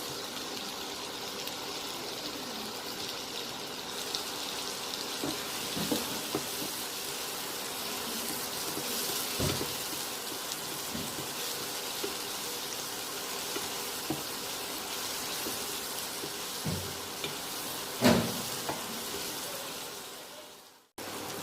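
Tomato being sautéed in a pan for a Tamil-style egg curry, a steady sizzling hiss that stays close and fairly even for the whole stretch, with a few soft clinks and stirring knocks and no talking.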